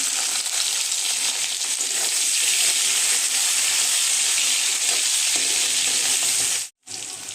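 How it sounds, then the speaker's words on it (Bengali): Chopped onions hit hot oil already fried with panch phoron spices, giving a steady, close, bright sizzle with faint stirring scrapes, unbroken until a brief gap near the end. "ফোড়নটা আমার ভাজা হয়ে গেছে, এখন দিয়ে দিচ্ছি পেঁয়াজ কুচি।"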